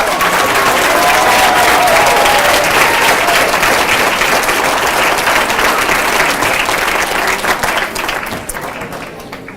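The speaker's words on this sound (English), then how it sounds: "One last round of applause for all of our champions." Loud, sustained applause and some cheering from a banquet crowd honoring youth bowling champions, a steady dense roar of hands that fades toward the end.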